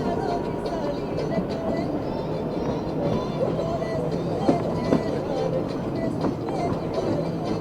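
The Kalka–Shimla toy train rumbles along at a steady, continuous level, with faint rattling clicks and squeals over a low, broad drone heard from on board.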